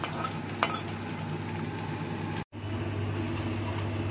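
Paneer pieces frying lightly in oil in a pan, a constant close crackling sizzle with one sharp clink early on and a brief break in the sound midway.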